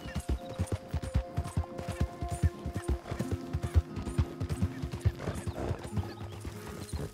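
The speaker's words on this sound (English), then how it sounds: "We got our horsey." Horse hooves clip-clop in a steady galloping rhythm in Red Dead Redemption 2, loud and close, with a horse neighing over game sounds and no speech.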